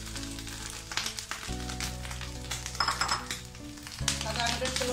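Grated coconut and dried red chillies frying in a pan for an Onam erissery with pumpkin and beans, a soft sizzle under the clatter of a spoon stirring, while background music plays throughout.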